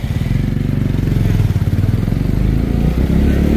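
A scooter riding through the streets of Bhaktapur, Nepal, its engine a loud, close, steady low putter with light rattling clatter and no pauses.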